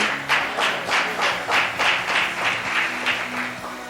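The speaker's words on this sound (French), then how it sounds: "you clap as you are sitting?" A church congregation at an Easter service claps in unison as people return to their seats, a steady rhythmic beat of about three claps per second that carries on evenly throughout.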